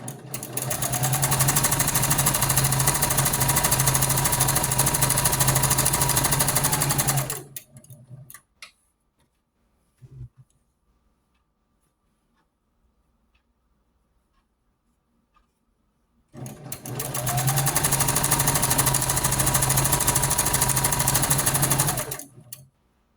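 A sewing machine stitches scrap fabric for a doll quilt with the needle-down setting, running in two long, loud, even bursts separated by a quiet stretch with a few small clicks while the fabric is realigned.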